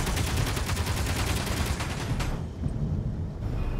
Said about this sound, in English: No, I'm out of assault cannon ammo.